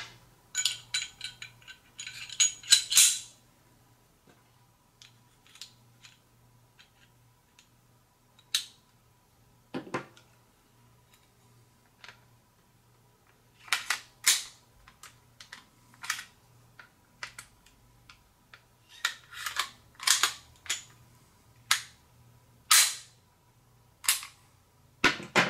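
A pistol is reassembled by hand, with metal parts making sharp, close clicks and short bursts of clatter scattered across long quiet gaps.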